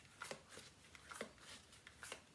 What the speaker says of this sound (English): I'm using the Rider-Waite Tarot for your reading. I'll just give it a bit more of a shuffle here.